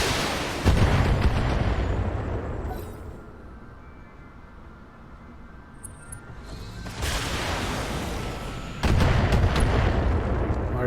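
Large lasers and missiles firing in Battletech urban combat between mechs, loud booming bursts at the start and around seven and nine seconds, separated by a quieter, rumbling stretch.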